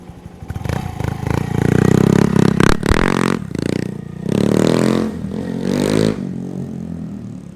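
A Honda Monkey motorcycle fitted with a Yoshimura low-volume muffler insert revs in several rising bursts nearby, its small engine note climbing and dropping between short pauses.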